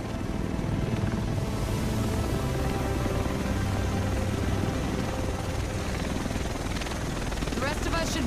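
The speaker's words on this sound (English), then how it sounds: "The rest of us should be in this chopper." Helicopter arriving in the video game Tom Clancy's The Division, a steady, dense rotor and engine roar that fills the scene loudly and continuously throughout.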